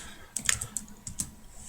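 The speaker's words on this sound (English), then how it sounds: "I'll go to insert text box, and I'll type in something like let's see." Keys tapped on a computer keyboard while entering text into a document box, a run of close, light clicks in short irregular bursts with no talking.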